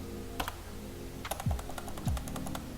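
Keys tapped on a computer keyboard while entering an XSS payload, a few sparse faint clicks with a couple of short bursts, quiet and close, no talking.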